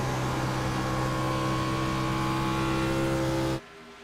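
A race car on a circuit during a race holds a loud, steady engine drone with strong harmonic bands, sustained at constant pitch before dropping away sharply near the end.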